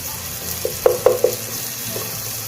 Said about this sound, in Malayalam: മഞ്ഞൾപ്പൊടി ചേർക്കാം, ചെറുതായിട്ടൊന്ന് വഴറ്റാം.